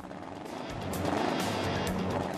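A Volkswagen Beetle car engine runs with a rough, swelling drone that rises after the first second, fairly faint and heard alone without voices.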